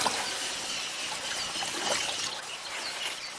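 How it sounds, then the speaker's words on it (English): Elephant calves splashing and bathing in water, a steady broadband wash of trickling and sloshing with birds calling faintly in the background. "Calves don't need much persuading to take a bath."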